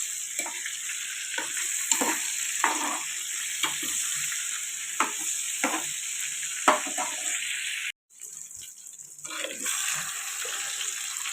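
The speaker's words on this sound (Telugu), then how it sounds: "కొంచెం ఎక్కువ నూనె వేసి వేపుతున్నాను ఫ్రెండ్స్." Brinjal pieces frying in a generous amount of oil in a pan, giving a continuous bright sizzle with brief bursts of stirring scrapes and a short break near the end.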